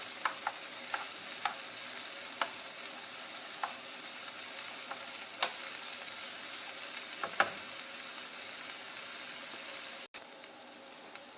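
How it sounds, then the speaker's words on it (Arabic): Small-diced onion frying in a pan until soft, a steady close sizzle throughout with occasional light scrapes and clicks from stirring. "نخليه يتقلى جيدا حتى يدبل تماما"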